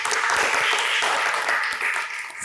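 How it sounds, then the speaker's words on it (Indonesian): A crowd claps loudly in a dense, steady wash of applause that eases off slightly toward the end. "boleh minta tepuk tangannya."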